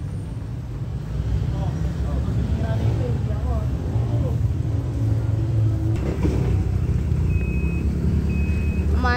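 A repaired jet ski engine starts and keeps running as a low steady rumble, with a thin high tone toward the end and people talking over it throughout.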